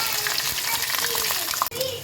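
Lentils, peanuts, mustard and cumin seeds hiss and crackle steadily in hot oil for a tamarind rice tempering, a dense continuous sizzle with one brief dropout near the end.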